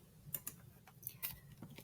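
Someone types on a computer keyboard into a Google Docs document, a short run of soft, close key clicks at an uneven pace in a quiet room.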